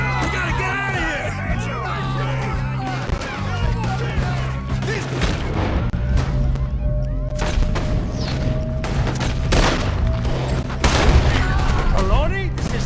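Heavy gunfire rattles through a shootout in the video game Red Dead Redemption 2, with dense volleys and booming shots over a loud, busy mix, while voices shout in the middle of the chaos.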